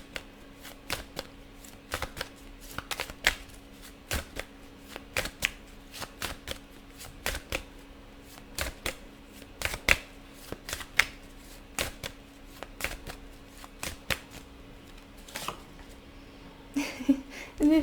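A deck of cards being shuffled for a card reading: a long run of crisp riffling flutters and sharp slaps repeating at an uneven rhythm, close and clear, with a low steady hum underneath.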